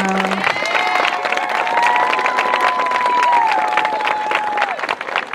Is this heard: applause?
yes